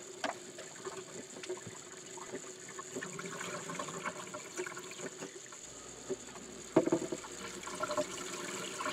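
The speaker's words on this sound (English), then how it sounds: "repeat this process of filling up the bottle and draining off the water and floating seeds until the water is clear" Water runs and sloshes in a bottle holding cucumber seeds as it fills and drains, a soft continuous trickle with a louder gurgling splash near the end, quiet and close with no talk.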